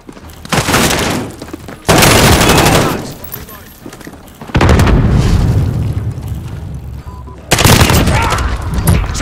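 A grenade blast in Call of Duty Modern Warfare multiplayer: a loud booming explosion rolls out amid bursts of close machine-gun fire and more explosions.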